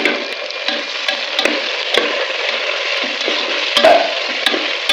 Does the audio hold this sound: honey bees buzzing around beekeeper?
no